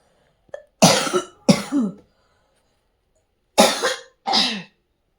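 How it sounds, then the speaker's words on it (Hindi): Two pairs of harsh coughs, close and fairly loud, each pair a quick double burst separated by a few seconds of quiet. "मुझे ना कफ़ हो रहा है, खांसी हो रही है बहुत ज़्यादा"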